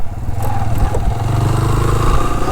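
Motorcycle riding along an unpaved dirt road beside a canal in strong wind, with a steady loud low engine drone and rumbling wind buffeting throughout.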